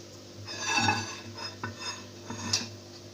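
Kabli pulao is served from a pot with metal utensils, producing close scraping and soft clinks against the pot, a few sharper knocks and one bright ring near the end, fairly quiet with no voices.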